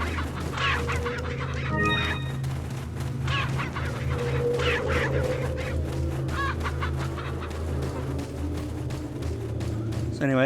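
Chickens cluck and squawk in the Resident Evil 4 village in repeated bursts over a steady low game ambience, fairly close and clear.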